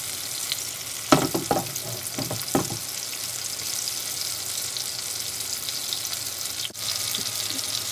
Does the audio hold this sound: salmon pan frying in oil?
yes